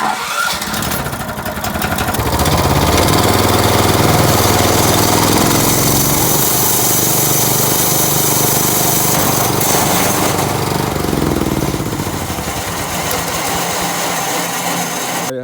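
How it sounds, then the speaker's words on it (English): A small gasoline engine on a bandsaw mill for milling logs is started with the choke on, catching after a brief crank, then roaring loudly and steadily at close range, with a rough buzzing drone and no talk. "Then it's time to start the engine."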